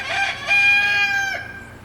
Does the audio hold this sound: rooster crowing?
yes